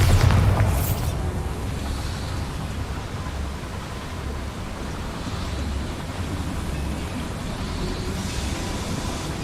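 A Bombarda spell explodes in Hogwarts Legacy with a loud, booming burst at the start, followed by a long, steady rumbling roar that fades only slightly.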